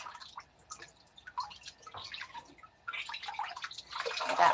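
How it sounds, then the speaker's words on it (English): Water splashing and dripping while a wine fermentation vessel is rinsed after washing, with irregular close drips and trickles that build into a louder, steadier wash toward the end. "So you can just wash and then put a little bit of water in to rinse."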